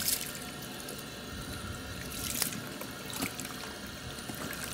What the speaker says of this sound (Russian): Через 7 минут я смываю горячее обертывание.